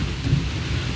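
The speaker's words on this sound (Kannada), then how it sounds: "ಮಳೆ ಸ್ಟಾರ್ಟ್ ಆಯ್ತು" Even hiss of falling rain with a low, rolling rumble of thunder underneath, continuous throughout.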